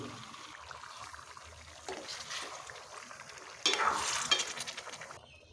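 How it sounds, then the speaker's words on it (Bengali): Meat coated in spices is stirred in a pan during bachelor-style home cooking, a steady close scraping and sizzling that swells louder toward the end, with no talking. "মাংস দেওয়া শেষ, এখন নেড়ে ছেড়ে দেব।"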